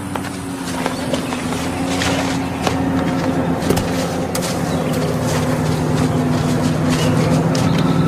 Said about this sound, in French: un bruit de moteur à midi, descends.